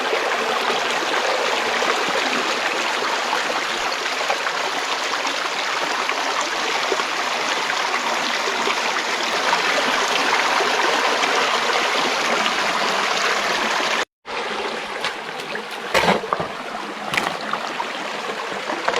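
Stream water flowing in a steady, loud rush with no gaps for about fourteen seconds, then a brief cut, after which the flow comes back with a few splashes and knocks.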